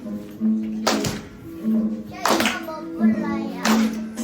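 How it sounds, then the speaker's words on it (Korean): Children at a church praise service clap along in a steady beat while a voice sings over the rhythm, a few separated claps landing about every second or so. "함께 박수 치면서 찬양합시다"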